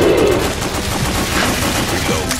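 Rapid, loud automatic gunfire from The House of the Dead: Overkill video game rattles continuously for a couple of seconds, with dense overlapping shots and game effects around it.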